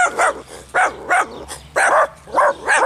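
Dachshunds from next door yap in a quick series of sharp, close barks, about eight bursts in steady rhythm with short gaps between.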